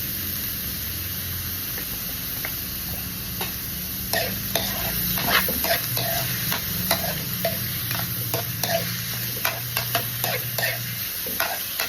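Chop suey ingredients sautéing in a pan, a steady close sizzle with a busy run of scraping and clattering stirring strokes in the second half, no talking.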